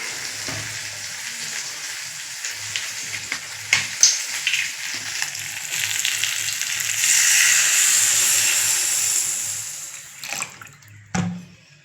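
Fish goes into spiced masala in a pan with water, setting off a close steady sizzle and bubbling hiss that swells louder midway, followed by a few sharp clinks of a utensil near the end.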